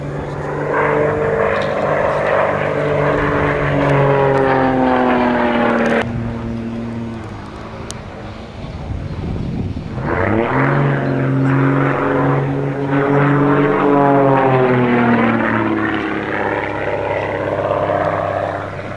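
A propeller aerobatic plane trailing smoke drones through a flat inverted spin, its loud engine tone sweeping up and down in pitch, dipping briefly in the middle and swelling back, heard steadily throughout.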